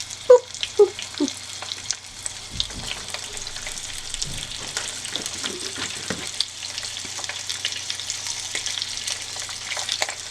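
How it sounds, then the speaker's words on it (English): Hot oil sizzles in a pan on a very hot stove while spaghetti meatballs and sausage cook, a steady close hiss broken by a few clinks and stirring sounds, with no talking. "once I hear the oil start sizzling, this stuff gets, like my stove gets really wicked hot really fast"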